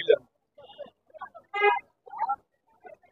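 Silkie chickens at a busy weekly pigeon market give a few short, quiet clucks and calls in a sparse, broken pattern with gaps of silence between them.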